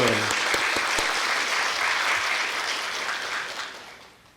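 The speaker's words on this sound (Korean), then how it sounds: "환영의 박수를 부탁드리겠습니다" A church congregation at a university Sunday service claps in welcome: dense, steady applause from many hands, loud at first and gradually thinning and fading toward the end.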